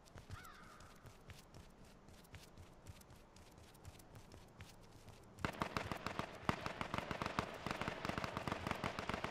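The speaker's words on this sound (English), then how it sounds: "I hear gunshots to your right" Gunfire in the survival shooter H1Z1, faint scattered shots at first, then a sudden louder stretch of rapid cracking bursts.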